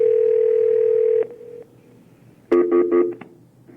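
A cell phone call gives a steady telephone dial tone, loud and close, that cuts off after about a second, followed by a short burst of rapid touch-tone dialing beeps.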